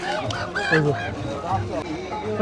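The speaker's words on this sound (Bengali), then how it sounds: "এই দিকটাতে দেশি মোরগ আছে হ্যাঁ আমরা এই যে এখানে চীনা হাঁসও দেখতে পাচ্ছি" Local roosters and Chinese ducks at a rural afternoon poultry market give scattered clucks and honks close by, mixed under people talking.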